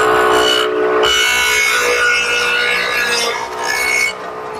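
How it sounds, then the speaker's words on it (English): A table saw fitted with a dado head cutter plows a quarter-inch-deep dado in wood, a loud close rasping, grinding cut that runs for a few seconds and then trails off. "I've set up the saw with the dado head cutter and adjusted the depth, so I'm taking out 1/4 of an inch of material."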